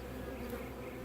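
Honeybee swarm humming as one steady, dense buzz that fills the air at close range, with no voices over it.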